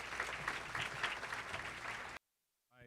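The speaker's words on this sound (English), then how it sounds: "hand a round of applause to the Cosmos committee that put this wonderful event together" An audience at a South Florida Muslim community event applauds the organizing committee with sustained, fairly close clapping that cuts off abruptly, followed by silence and the start of a voice.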